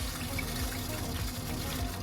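Water runs steadily through a newly installed four-stage under-sink reverse osmosis filter, a continuous close trickling and pouring hiss with no pauses.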